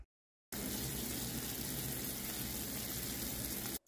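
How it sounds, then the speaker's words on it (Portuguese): Sugar syrup for strawberry candy bubbles and sizzles in a pan, a dense, steady hiss of popping bubbles. It starts after a brief silence and runs close and unbroken, with no talking. "As bolhas nitidamente já estão estourando com uma certa dificuldade e o barulho também muda"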